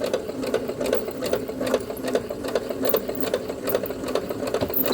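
Sewing machine stitching fabric at a slow, even pace, the needle's rapid rhythmic clatter close and steady for the whole stretch with no talk.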